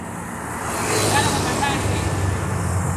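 Road traffic passes on a street where small buses go by: a broad, steady roadway rumble swells as a vehicle draws near and then holds at a loud level, with voices faintly mixed in.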